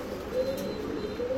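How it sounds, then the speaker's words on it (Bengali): An old-breed green-necked pigeon coos softly in a low, rolling purr, close by at modest volume against quiet background hiss. "একদম পুরান জাতের কবুতর"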